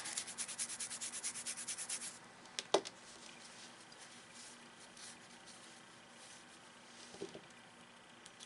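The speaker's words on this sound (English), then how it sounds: "Give it a good scrub." Brisk rubbing strokes of a brush scrubbing a lightly corroded Game Boy cartridge circuit board, a rapid rhythmic burst up close, then quieter scattered scrapes and taps.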